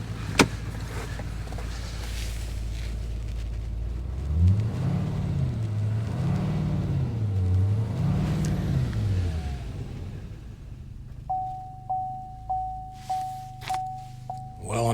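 Pickup truck engine running in harsh winter cold, a low steady idle with a few swelling revs in the middle, followed by a rhythmic series of repeated mechanical pulses near the end.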